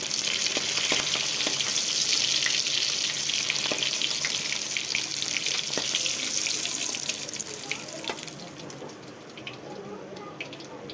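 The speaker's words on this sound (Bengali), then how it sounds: "বন্ধুরা মাছগুলো ভাজা হয়ে গেছে, তুলে নিচ্ছি।" Fish frying in hot oil in a wok while a Bengali home dish is cooked: a steady, loud broadband sizzle with scattered crackles and pops runs throughout and eases slightly toward the end.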